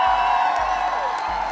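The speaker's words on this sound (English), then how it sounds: "Let's get the Lady Warriors a round of applause" An audience applauds and cheers at a crossover ceremony for the Lady Warriors, a steady wash of crowd noise with a low rhythmic thump pulsing beneath it.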